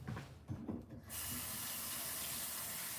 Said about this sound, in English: Hold on, let me wash it off.